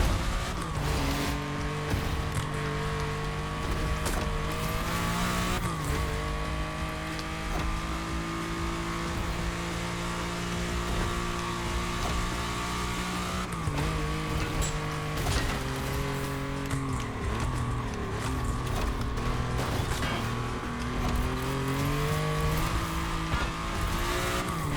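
A car engine stuck in fifth gear from an automatic gearbox fault drones steadily at high revs while driving, with pitch holding flat and occasional small shifts, loud and close.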